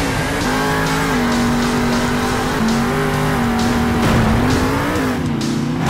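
A monster truck engine roars and revs in the Monster Jam Steel Titans video game, a loud, steady, close drone with slight pitch rises, alone without talk.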